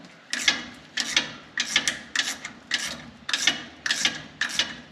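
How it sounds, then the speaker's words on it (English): A thread-locked keeper bolt is wrenched out of a pin on a Wilwood drum-to-disc brake install, giving eight or so evenly spaced grinding ratchet strokes, close and fairly loud. "take our little keeper bolt out of this pin"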